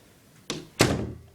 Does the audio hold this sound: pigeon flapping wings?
no